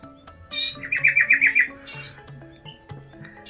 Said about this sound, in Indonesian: Mas Yanto, pemilik burung sanger ini guys